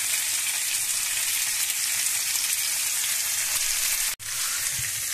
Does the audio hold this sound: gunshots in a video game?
no